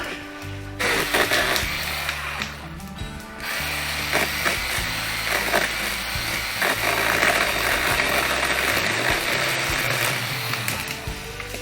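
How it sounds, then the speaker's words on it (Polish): A saw cutting tree branches at a fishing spot, loud rasping strokes in irregular bursts with pauses between, close by and alone. "wyciąć to fajnie, nie? Pobawić się piłą, nie?"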